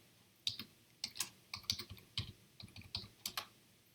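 Quiet, close typing on a computer keyboard while Java code is written, a steady run of light, irregular keystroke clicks with short pauses between bursts.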